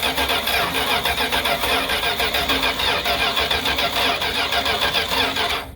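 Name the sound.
1978 Plymouth Trail Duster engine starting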